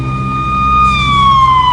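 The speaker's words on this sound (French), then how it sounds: "Quelques minutes plus tard, affalé au fond d'une ambulance, Reagan meurt et se retrouve aux portes de l'enfer" An ambulance siren sounds loud and close, a steady high tone that slides lower as it goes on, over a low rumbling background.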